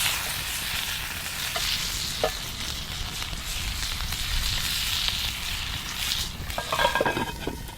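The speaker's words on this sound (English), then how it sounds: "Inside the skillet, I'm starting to hear things sizzle, which means things are starting to cook" Food, pork chops, sizzles steadily in a hot skillet at a backcountry campsite, a constant crackling hiss with occasional soft clinks of stirring.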